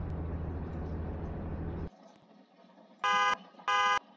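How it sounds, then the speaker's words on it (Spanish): Car alarm in the Roblox game Liberty County giving two short, loud, bright electronic beeps after a stretch of broad rumbling noise. "Es que literal, es una alarma."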